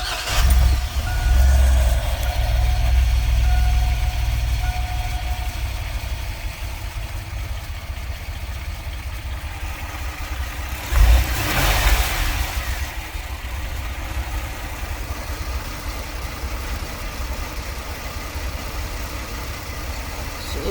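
Car engine with a P0303 misfire code and fresh coil wires starts with a loud crank and catch, then settles into a steady, fairly smooth idle close by, with a brief surge partway through.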